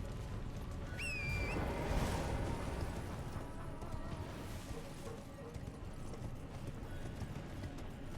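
Horse hooves clip-clopping in the video game Elden Ring, a steady run of hoofbeats with a brief whinny-like call early on, set against a constant dense game ambience and music.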